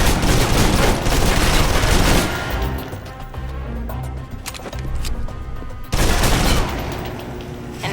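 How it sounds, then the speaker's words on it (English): Submachine gun fire in Alpha Protocol: dense, loud bursts of rapid automatic fire, close, then a quieter lull with scattered shots before another heavy burst, with no voices. "If you're trapped in close quarters with multiple opponents, the SMGs can help clear the room quickly."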